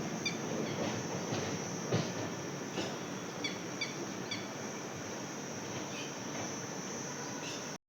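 A WAP-7 electric locomotive hauls the Indore-Veraval Mahamana Express along the line near Junagadh, giving a steady, loud rolling rumble with rhythmic wheel clicks over rail joints, while crickets chirp faintly above it throughout.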